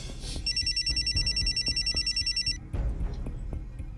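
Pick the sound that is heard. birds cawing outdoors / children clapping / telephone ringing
telephone ringing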